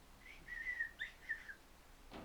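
Parakeets give a short run of thin, high chirps and whistled tweets at moderate distance, followed by a soft broadband rustle near the end.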